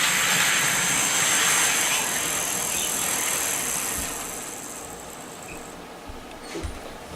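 An IHC 2-6-0 Mogul model locomotive, still in its break-in period, runs with a steady, noisy whirring hiss that fades somewhat as it moves away, with a couple of faint clicks near the end.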